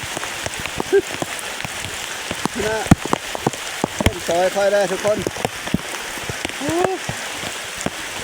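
Heavy monsoon rain pours down steadily in a rural farming area, a dense, unbroken hiss. Someone speaks over the rain at moderate volume.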